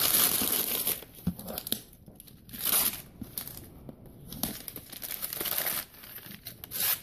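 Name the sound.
cardboard box being opened and cut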